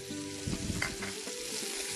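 Urad dal, finely chopped onion and capsicum sizzle and fry in a pan for oats upma, with a burst of stirring about midway and a steady close crackle throughout.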